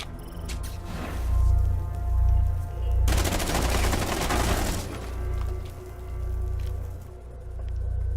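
Gunfire in a Rainbow 6 Siege tournament match, with wallbang shots fired through walls: bursts of rapid shots, the heaviest volley in the middle, over a low rumbling game background with no voices.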